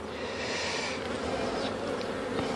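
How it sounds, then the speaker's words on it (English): Honey bees swarm during a live hive installation, giving a dense, continuous close-up buzz that holds steady throughout. "Gently stroking the bees there just to get them to move out the way."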